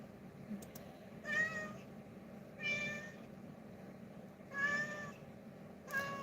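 A cat meows four times at a slow, uneven pace, clear and fairly close against a quiet room hum.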